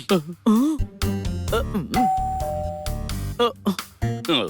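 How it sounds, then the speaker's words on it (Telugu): A cartoon doorbell chimes with a clear, sustained tone, mixed among animated character voices and music. "డోర్ బెల్ కొట్టండి."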